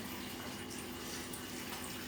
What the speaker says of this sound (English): Let's try to wash our hands. And that's all the water we got.